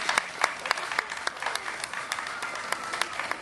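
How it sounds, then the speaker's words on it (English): Applause at an outdoor mural unveiling in a Toronto underpass: a modest crowd claps steadily with sharp individual claps standing out, fairly near and continuous throughout. "I think a big round of applause is in order"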